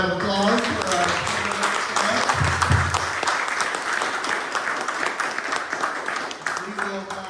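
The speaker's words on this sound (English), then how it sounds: "Please join me in a round of applause for" Audience at a town candidate forum breaks into sustained applause, a dense patter of many hands clapping that carries on for several seconds, with a speaking voice heard briefly at the start.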